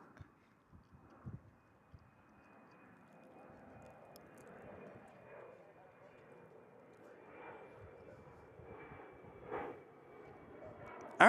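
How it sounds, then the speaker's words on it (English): A Boeing 777 from Frankfurt at DFW airport, with distant, steady jet engine noise building slowly over the clip and people talking faintly nearby. "And there is the 777 from Frankfurt, Germany."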